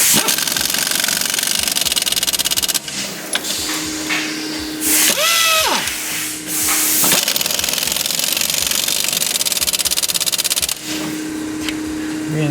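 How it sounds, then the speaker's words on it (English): A half-inch impact gun fitted with a 13/16 socket hammers on a car's strut bolts in loud rattling bursts, pausing between runs as a dog barks nearby and other workshop noise carries through. "You gotta use your 13/16 socket on the half-inch impact gun, and draw these two bottom ones back up."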